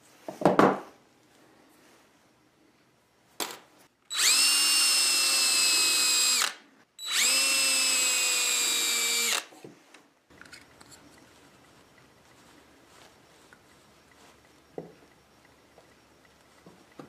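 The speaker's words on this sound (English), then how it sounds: "Here I'm drilling holes for the mounting screws." A power drill bores holes for mounting screws in a giant model ant build, running in two steady whining bursts of about two seconds each, close and loud, with scattered handling clicks around them.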